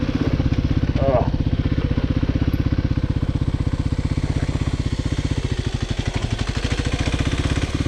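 Kawasaki KLX300 dirt bike engine running close by with a steady pulsing thump, loud and unbroken.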